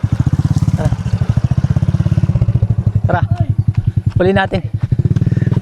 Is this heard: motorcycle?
yes